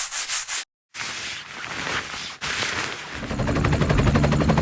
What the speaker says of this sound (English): Go ahead and remove the fan, and give it a good scrub.